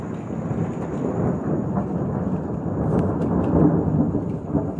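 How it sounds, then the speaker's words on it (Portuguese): Light drizzle patters in a steady, soft wash of rain outdoors, with no voices, a continuous even texture throughout. "tá até chuviscando já, que maravilha! É chuvisqueiro!"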